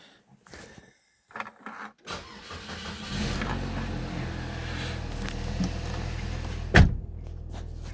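An old automatic Saab is started: a few faint clicks and thumps, then the engine catches with a short burst and settles into a steady, fairly quiet idle, with one sharp knock late on.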